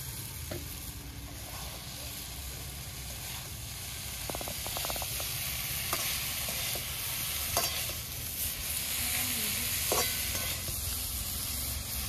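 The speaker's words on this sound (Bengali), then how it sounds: "ব্রোকলির সাথে মশলাটাও ভালো করে কষিয়ে নিচ্ছি।" Broccoli stirred into oily spice masala in a pan, cooking for a broccoli-prawn dish, crackles with a dense, steady sizzle and occasional spatula scrapes and clinks, close-up and continuous without speech.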